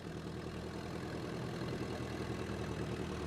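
Engine of a 100-year-old Ford Model T running, a steady low rumbling idle with an even chugging pulse, close and continuous, no voices.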